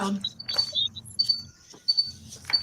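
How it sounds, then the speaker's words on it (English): A cricket chirping indoors, sharp high trills in short bursts that start and stop several times, with a few low background sounds beneath. "That's a cricket."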